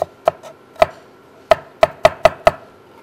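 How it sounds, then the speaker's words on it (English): A knife chops fresh herbs on a cutting board in a home kitchen. There are seven sharp, close chops in an uneven rhythm, with short pauses between some strokes, and no voices. "while I'm chopping my herbs"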